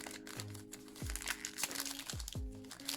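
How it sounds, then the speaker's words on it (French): A trading card booster pack is torn open up close, giving crisp crinkling and crackling foil wrapper sounds in short bursts through the clip. "Le deuxième booster qui se déchire comme une lettre à la poste."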